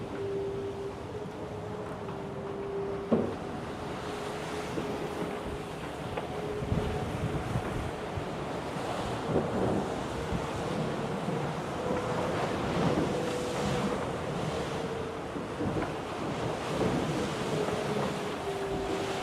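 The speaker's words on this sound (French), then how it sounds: "On a de la chance aujourd'hui, la mer est belle." Out at sea aboard a racing trimaran, steady wind roars over waves and surf, with a constant rushing hiss, occasional splashes and a faint tonal hum.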